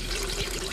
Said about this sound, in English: Now I'm going to pour the sugar water into this jar.